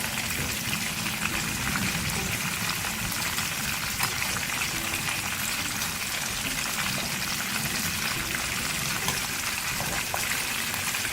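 Boneless chicken sticks frying in oil over a medium flame, a steady, even sizzle and crackle holding at constant loudness throughout, with no voices over it.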